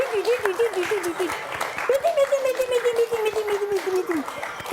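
Sustained audience clapping fills the background, moderately loud and steady, with a voice talking over it most of the time.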